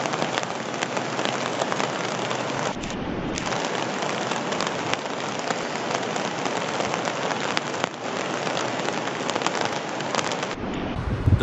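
Heavy rain pours steadily during flooding in Albufeira and Loulé, Portugal, a dense, continuous roar of water on surfaces with gusts of wind, loud and unbroken throughout with no voices.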